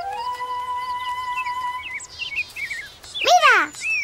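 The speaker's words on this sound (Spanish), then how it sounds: "Pronto otro pájaro se acercó a comer semillas y luego otro y unos cuantos más." Small cartoon birds chirp while eating seeds. Thin whistled tones lead into quick high twittering, ending in a louder burst of overlapping chirps.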